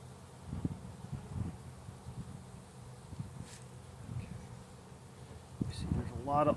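Honey bees buzz steadily in an opened hive during a March inspection, clusters of old and young bees over brood comb, a close low hum with a few louder passes nearby.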